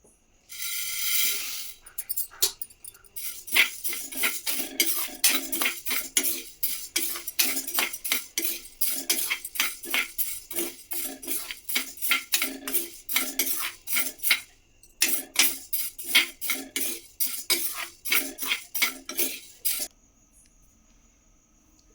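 Urad dal dry roasting in a pan without ghee, stirred steadily with a metal spoon that gives rapid, rhythmic scraping clinks for close to twenty seconds, loud and close.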